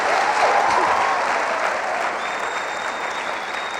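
Steady audience applause at a motivational gathering, a dense wash of many hands clapping throughout, with a few whistles and voices mixed in, slowly tapering.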